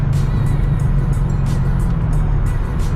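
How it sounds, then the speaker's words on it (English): A C6 Corvette Z06 accelerating in fifth gear at roughly 75 to 85 mph, its engine a loud, steady low drone with road and wind rush throughout and no voices. "I just hit the gas in 5th"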